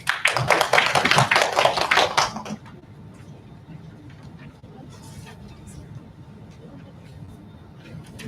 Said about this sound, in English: Thank you very much. Applause.